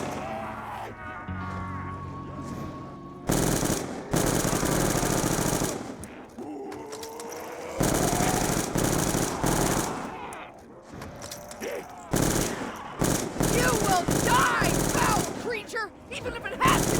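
Bursts of full-auto gunfire from Black Ops 2 Zombies on the Buried map, loud rattling volleys separated by short gaps, with game sounds between the bursts.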